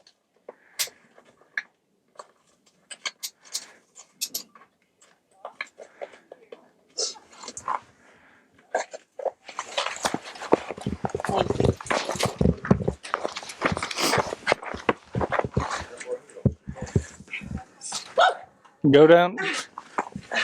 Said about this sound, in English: they bring that big dog down here